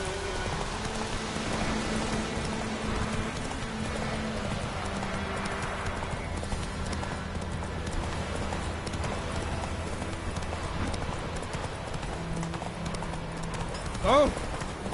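Roach, a horse in The Witcher 3 video game, gallops with steady, continuous clip-clop hoofbeats under a dense bed of rain-like ambience and game sound, ending in a brief louder accent.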